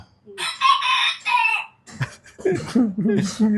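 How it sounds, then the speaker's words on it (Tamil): A rooster crows loudly up close, one long harmonic call, followed by clucking and a voice chattering in the background. "ஏய் சேவல் கம்மனு"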